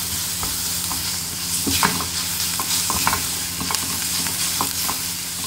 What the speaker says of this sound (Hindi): इसमें हम ये अपना गार्लिक पेस्ट डाल देंगे और इसको थोड़ा सा फ्राई कर लेंगे